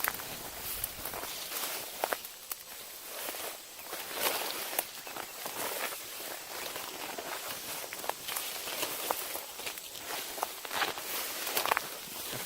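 Walking through a cemetery with burr stickers ripping on clothing, steady crunchy footsteps and rustling brush, frequent scratchy tearing and snagging sounds close by, continuous throughout.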